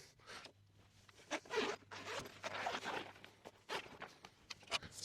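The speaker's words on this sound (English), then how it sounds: "You can zip it up" A zipper on the fabric storage of a Vevor folding camping kitchen table is pulled in several quick, close zips, with small handling rustles between them.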